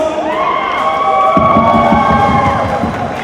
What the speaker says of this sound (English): Can we please have a big round of applause?